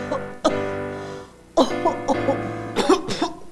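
Repeated coughing fits from a person in a 1999 Mexican television commercial for Tesalón cough medicine, several harsh, chesty coughs in bursts over a steady background music bed.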